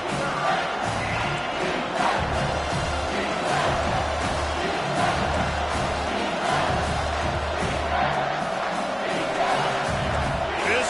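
A football stadium crowd roars before a third-down play in a Wildcats game, a sustained broad wash of cheering and shouting from many voices that holds steady throughout.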